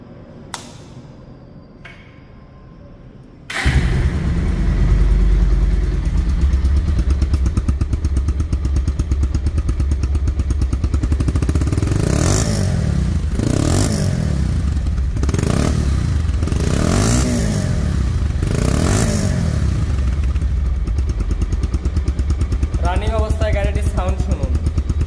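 A Bajaj Pulsar DD ABS motorcycle, a 2023–24 model in showroom condition, starts and settles into a steady idle. It is then revved several times in sharp rising bursts, close and loud, with a faint clatter at the end.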